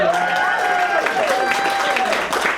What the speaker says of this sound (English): Can we just give her a round of applause?